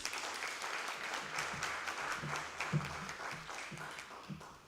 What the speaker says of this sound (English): Can we give Prof another round of applause?